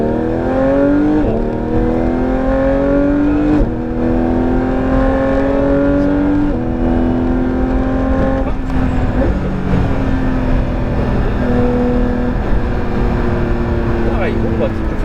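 A Porsche GT3 on the Laquais race circuit, its engine loud and close from inside the car, revs climbing repeatedly through the gears with sharp shifts between pulls, while a driving coach speaks over it.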